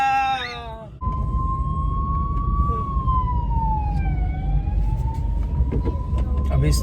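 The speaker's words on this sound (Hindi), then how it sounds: "अभी ना एम्बुलेंस जा रही है" An ambulance siren on the road wails loud and near with a rising and falling tone, over the rumble of a stopped vehicle's engine. A short burst of talk is heard just before it.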